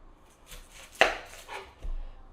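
A knife chops through an onion into chunks for mirepoix: one sharp, close cutting thud, then a duller knock against the board in a quiet kitchen, with no speech.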